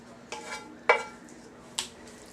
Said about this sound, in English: go ahead and go like this with the pan and get the rest of the meat in there